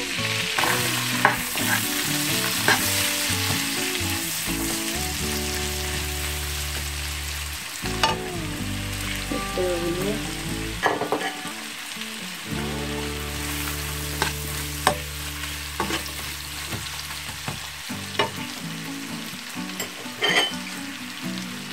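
Two medium onions cut into half-rings sizzle steadily in leftover oil in a pan, a soft continuous frying hiss with occasional stirring scrapes and clinks, close and fairly quiet with no talking.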